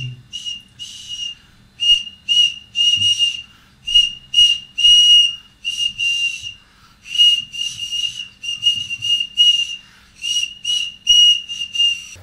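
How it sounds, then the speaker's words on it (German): Pasta whistle noodle (Pfeifnudel) blown in a quick series of shrill, steady whistle bursts, some short and some held, close and loud with brief gaps and no talking. "deswegen haben wir die Pfeifnudel erfunden"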